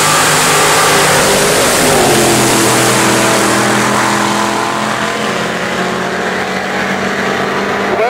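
Drag race cars, one rated at 2,000 horsepower, launching and accelerating down the strip at Cedar Falls, Iowa, a loud sustained engine roar with rising pitch that fills the whole stretch, no talk.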